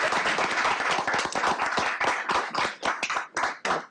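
A meeting audience claps for new board commissioners: a dense, close burst of applause from many hands, holding for several seconds before thinning into scattered claps.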